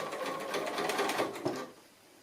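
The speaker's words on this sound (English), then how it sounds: "I can start feeding the next one and just keep stitching through with that super large stitch" A sewing machine stitching quilting fabric with a very long stitch, a rapid rhythmic close whirr of the needle running for over a second before stopping abruptly.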